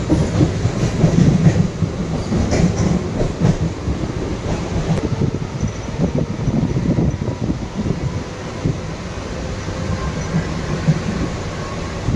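Inside a moving passenger train heading to Mumbai, a continuous loud rumble with rhythmic clickety-clack of wheels over rail joints and occasional rattles, steady throughout with no voices.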